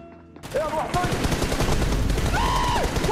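Loud, rapid automatic gunfire rattles in a BGMI team deathmatch on mobile, with sustained close bursts and a few whooshing effects layered over it.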